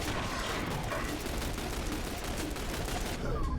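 Continuous gunfire from The Bureau video game, a dense rattling volley of shots running without pause at a steady loud level, with faint voices underneath.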